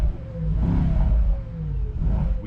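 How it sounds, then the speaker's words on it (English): A Mercedes-AMG GT63 S E Performance with an 843-horsepower hybrid V8 accelerates hard on the German Autobahn at night, a deep, loud interior engine roar rising and falling in pitch. "We will be pushing this 843 horsepower hybrid V8 on the German Autobahn"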